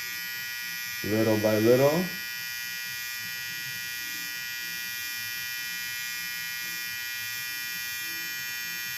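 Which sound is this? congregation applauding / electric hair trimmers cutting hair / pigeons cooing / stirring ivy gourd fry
electric hair trimmers cutting hair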